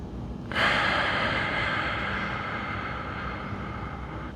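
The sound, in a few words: deep full breaths during exercise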